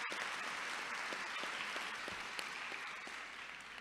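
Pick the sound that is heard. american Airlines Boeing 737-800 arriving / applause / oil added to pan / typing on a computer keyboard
applause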